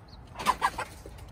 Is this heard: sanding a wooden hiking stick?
no